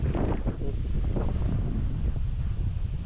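Strong wind blows outdoors across rice fields, buffeting the microphone with a loud, continuous low roar and gusty rumble throughout.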